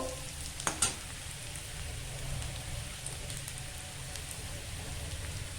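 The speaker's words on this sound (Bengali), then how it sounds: "এরপর ব্রকলিগুলো দিয়ে দিচ্ছি।" Broccoli frying in a pan after onions have browned, a steady close sizzle with a few sharp clatters early on, no voices.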